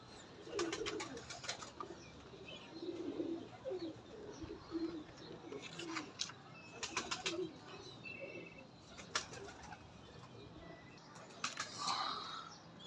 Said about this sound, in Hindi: ये उस्ताद जी के 5 नंबर कबूतर हैं